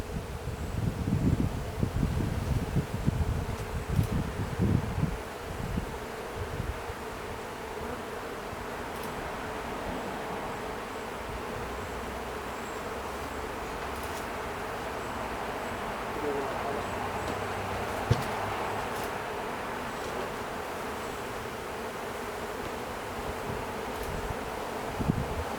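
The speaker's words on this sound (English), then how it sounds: "We'll let these bees settle down here as we pack in" A swarm of bees from a cottage cutout buzzes in a steady, warm drone, louder with rustling and handling noise at first, then settling into an even hum for a long stretch.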